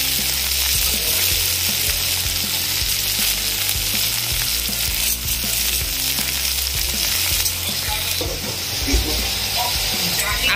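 Saag, leafy greens, frying in a pan with a steady, loud, dense sizzle and crackle throughout, joined by occasional soft stirring scrapes.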